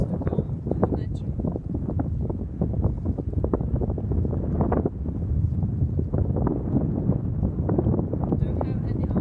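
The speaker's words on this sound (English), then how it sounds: "it's starting to be a little bit windy now." Strong wind roars outdoors by the water in Norway during a motorcycle trip, buffeting the microphone in a dense, continuous rumble with gusts, while a person speaks over it.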